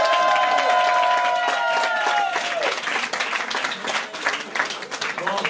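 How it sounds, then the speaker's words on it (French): An audience at a slam poetry evening breaks into dense, loud applause and whoops to welcome a performer, the clapping steady throughout while a sustained tone fades out partway. "Veuillez accueillir, s'il vous plaît, dans un tonnerre d'applaudissements"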